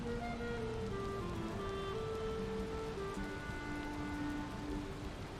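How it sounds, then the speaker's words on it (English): Steady rain pours down in the Valheim video game, a dense, even hiss of drops on surfaces that fills the whole stretch without a break, loud and close, with no voices over it. "Screw this rain."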